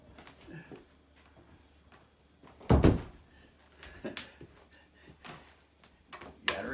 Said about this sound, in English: Hold on, I gotta shut the neighborly door.